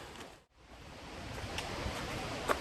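The Pine River in Ontario flows with a steady broadband rush, close and continuous after a brief dip near the start, with no talk.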